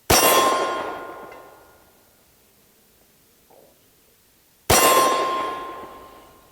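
Two loud, close gunshots from a SAR USA P8L pistol firing Winchester Lawman 124 grain ammunition, about four and a half seconds apart, each with a sharp crack and a long ringing decay.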